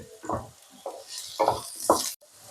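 Potato and pointed gourd pieces being fried and stirred in a pan: four or five distinct scraping stir strokes over a soft sizzle, close by, with no talk.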